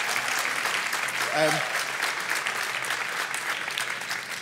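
Applause at a press conference for Conchita Wurst, Austria's 2014 Eurovision entrant: steady clapping from a room of people, moderately loud and continuous, with a brief voice rising above it midway.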